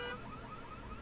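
An alarm in the horror video game Visage sounds faintly in the distance as a steady electronic tone over low room noise, brief and quiet.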